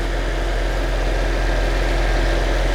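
An Infiniti G37 engine with suspected blown head gaskets idles steadily after about five minutes running, with a low, even rumble and slight vibration, continuous and unchanging throughout, with no voices.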